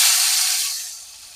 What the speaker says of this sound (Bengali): এবার দেখুন ভেজে রাখা হিং আর শুকনো লঙ্কাটা আমি এই ডালের উপরে দিয়ে দিচ্ছি।